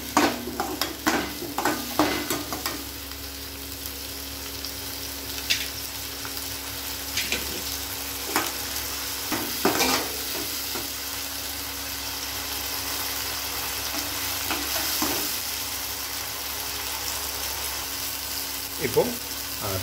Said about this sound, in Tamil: நம்ம தக்காளியும் வெங்காயமும் அரைச்சி வச்ச பேஸ்ட்டை அதில் கலந்துக்கிறோம். இது நல்லா பச்சை வாசம் போகிற வரைக்கும் நம்ம நல்லா வணங்கிக்கணும்